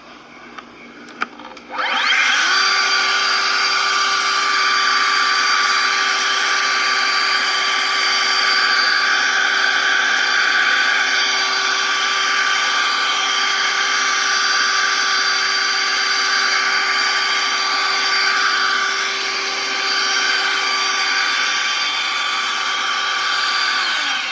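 Battery-powered lawn mower running on its turbo setting, a steady high electric motor whine with blade hiss that spins up after a brief click and holds constant and loud, with no talking.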